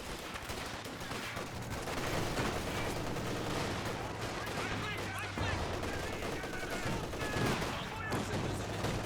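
Machine gun fire and other gunshots in a Company of Heroes 2 battle, dense overlapping bursts and rattling volleys running continuously throughout, with a voice talking over the combat.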